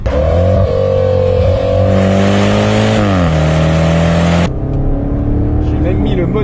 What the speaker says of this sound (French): qu'est-ce que ça envoie ce moteur avec le compresseur